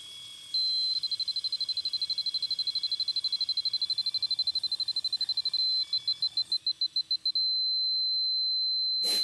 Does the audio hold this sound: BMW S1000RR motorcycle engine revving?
no